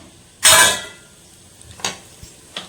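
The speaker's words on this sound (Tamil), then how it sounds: "உளுத்தம்பருப்பு கடலைப்பருப்பு கொஞ்சமாக கடுகு லைட்டாக ரோஸ்ட் பண்ணிக்கலாம்" Urad dal, chana dal and mustard seeds hit hot melted ghee in a pan with one loud sizzling burst, then a few faint clinks and scrapes of stirring follow, no talk.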